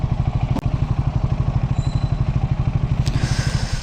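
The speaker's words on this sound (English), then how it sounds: "Let me switch off the engine." A Triumph Scrambler 400 X motorcycle engine idles with a steady, rhythmic thumping pulse close by, broken by a couple of sharp clicks, just before it is switched off.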